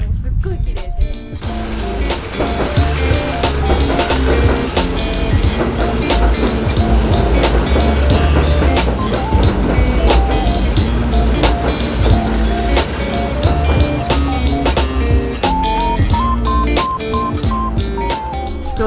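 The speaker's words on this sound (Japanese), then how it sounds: "ここから電車が通るんだけど、その電車の色とかもすっごい綺麗で" A train in Kyoto rumbles past close by with a steady roar and repeated rhythmic clacks of wheels over rail joints, continuous throughout.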